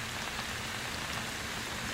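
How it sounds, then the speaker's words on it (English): Pouring rain fills the scene in The Blair Witch Project, a constant, dense wash of hissing drops with a soft low rumble and no talking. "Pouring rain right now, we can't even get a fire going."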